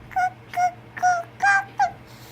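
A toddler imitates a duck's quack with five short, high-pitched vocal bursts at an even rhythm, close to the microphone and without other talk.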